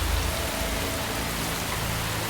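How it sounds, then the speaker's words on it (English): Steady rain drums against an office window, a dense, even patter of sharp taps with no let-up and no voices. "Rain lashes against the window with sharp, staccato taps"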